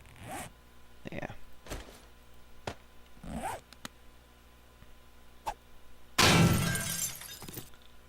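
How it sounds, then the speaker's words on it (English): Gravel collapses in a mine in the video game 7 Days To Die with a sudden loud crumbling crash that lasts about a second, after a series of scraping digging sounds. "And some gravel just collapsed."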